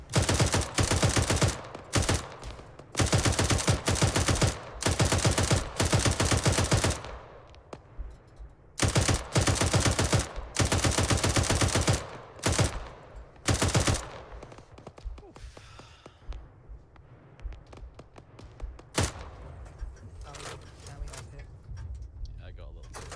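Long, loud bursts of mounted machine gun fire in the video game Arma 3, stopping and starting in heavy blocks, then sparser single shots and short bursts, with people talking throughout.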